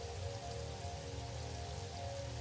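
Steady rain falling in a factory-building video game, a dense even patter of drops on surfaces, fairly loud and constant throughout with no talk over it.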